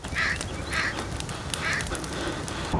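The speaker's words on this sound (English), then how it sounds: "Crows screeching in the distance." Crows screech from a distance in the forest of the survival video game The Forest, harsh calls repeating three or four times over a steady bed of ambient noise.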